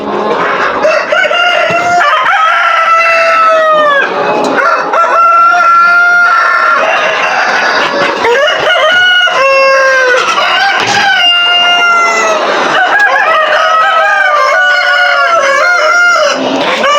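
Sonali parent chickens and roosters at a poultry farm in the afternoon, a loud, dense chorus of overlapping crowing and clucking that carries on steadily throughout with no talking.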